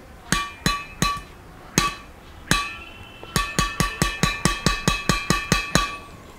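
An Adrenex R501 badminton racket strung with Yonex BG65 at 28 lbs is tapped on its strings, giving sharp ringing pings, first a few spaced strikes, then a quick even series, close and clear.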